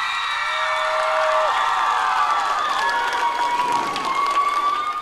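Outdoor karaoke audience on a town square in Pokrovsk applauding and cheering for a singer, a steady crowd roar with shouts and whoops sustained throughout at moderate loudness.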